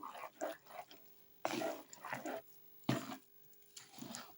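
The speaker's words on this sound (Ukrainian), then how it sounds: "Гарно теж все перемішую" A spoon stirring thick batter with grated hard cheese for lazy khachapuri, wet squishy scraping strokes in irregular bursts, close up, with no talking.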